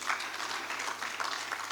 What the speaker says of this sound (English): Can we give His Excellency another round of applause?